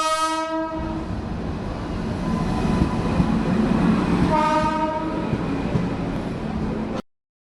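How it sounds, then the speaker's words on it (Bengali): A Krishnanagar-bound train pulls into a station, its loud horn blaring at the start and sounding again midway over a steady rumble of wheels and carriages rolling close by. "কৃষ্ণনগর ট্রেন চলে এসছে এখন"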